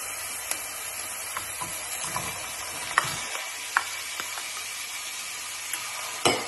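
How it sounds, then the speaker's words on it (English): Mushrooms and vegetables frying in a pan for tomato sauce: a steady sizzle runs throughout, broken by scattered clicks and scrapes of a utensil stirring, with no talk. "Now that those vegetables are fried, we're going to add in the mushrooms."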